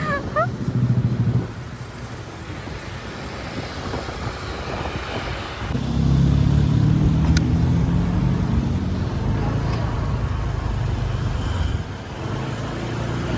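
Congested road traffic near Lake Buyan in Bali: a low, continuous wash of idling and creeping cars and motorbikes that swells louder midway as vehicles move closer.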